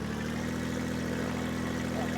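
Video game motorbike engine humming at a steady, even idle, a faint, continuous drone with no pauses or speech.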